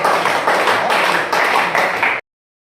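A crowd at a Hindi comic poetry gathering claps to welcome a poet to the stage. The clapping comes in a brisk, dense burst of about two seconds, then cuts off abruptly into silence.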